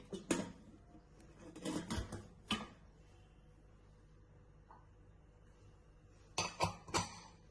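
Metal pots and a container clatter as a pot of sprouted moth beans is set into a pressure cooker, several sharp clanks early on, a quiet gap, then two more clattering bursts near the end.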